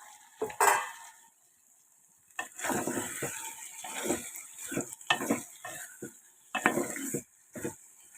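A potato, brinjal, tomato and dry fish curry being stirred in a pot, with repeated wet scrapes and clinks of a spoon against the metal in uneven bursts, close and clear, with a quieter pause early on.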